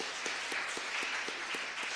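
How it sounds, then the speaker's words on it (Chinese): A church congregation claps together during a Taiwanese-language Presbyterian Sunday worship service, giving a broad, steady patter of many hands with faint regular accents, heard at a moderate, somewhat distant level. "我们鼓掌来给她打气"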